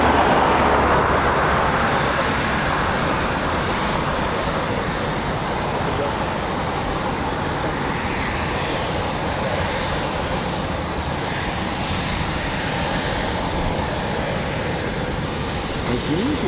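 Eurofighter Typhoon FGR4 jet on the ground at RAF Coningsby, a steady broadband engine roar holding at a constant level for the whole stretch, with no voices over it.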